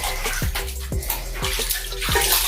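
Water poured from a bucket splashes down to rinse afro hair, a continuous wet rush broken by a few soft thumps, close by and with no talking.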